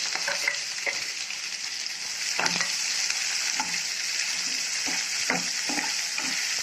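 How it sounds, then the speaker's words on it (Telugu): Onions fry in a pan with a constant bright sizzle, broken by frequent scraping and stirring taps from a spoon. "ఇప్పుడు నేను ఆనియన్ ఫ్రై చేసుకుంటాను."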